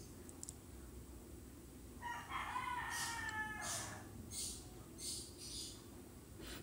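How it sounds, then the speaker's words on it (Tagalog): A rooster or chicken kept as a noisy pet crows from another room while someone is in the kitchen, a faint, distant call that rises and holds, followed by a few shorter clucks over low steady background noise. "Maingay yung ibon namin kahit nandito na ako sa kusina, dinig pa din."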